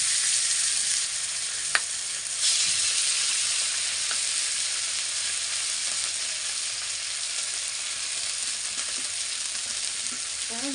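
Fish fries in hot oil with a steady, bright sizzle and hiss that holds for the whole stretch, marked by a few sharp pops and small spatters, with no talk.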